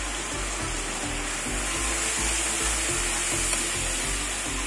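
Turmeric and chilli powder frying in a pan of oil for a taro and katla fish curry, a steady close sizzle with soft rhythmic scraping pulses as the spices are stirred, no voices.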